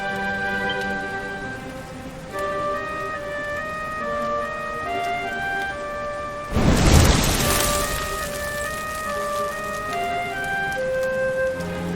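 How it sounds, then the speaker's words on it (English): Rain falls steadily in Dragon Quest XI as a continuous hiss under soft game music, with a brief louder burst in the middle like a gust or distant rumble. "Looks like the rain's dying down."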